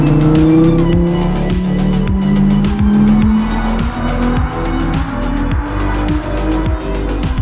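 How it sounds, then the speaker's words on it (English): A V10 four-wheel-drive car at speed, Formula 1-like, screams loudly and continuously with rising and falling engine pitch through gear changes and brief tire squeal, heard up close from inside. "There is nothing on this planet that sounds like a V10"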